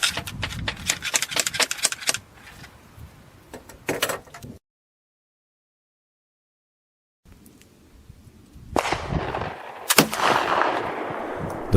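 A muzzleloading pistol fired with a paper cartridge and a round ball: sharp, loud outdoor reports with dense clattering impacts, then a gap of silence before another strong burst of sharp cracks.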